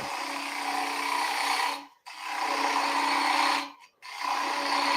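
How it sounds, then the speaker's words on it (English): A gouge cuts into a spinning wooden bowl on a lathe, hollowing out the inside in a steady rasping scrape that breaks off twice in short pauses before resuming. "So a little bit more digging out here, and we'll switch over to a different gouge"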